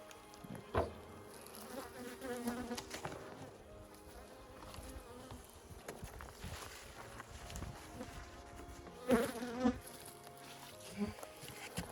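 A dense, steady drone of honey bees buzzing around the entrance of a beehive, with a few louder bees passing close to the recorder.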